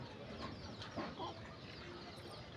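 Domestic chickens cluck in short, scattered calls close by, a few louder bursts standing out over a steady farmyard background hiss.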